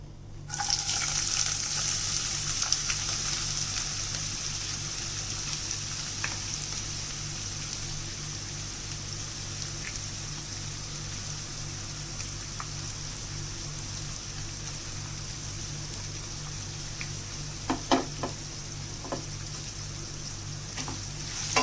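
Chopped onions and green chillies frying in oil for veg keema curry, a steady close hiss and crackle like rain on a surface, continuous throughout with occasional small pops.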